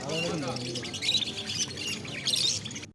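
Budgerigars chirp in a busy bird market, with thin high tweets scattered through the whole stretch and someone talking over them close by.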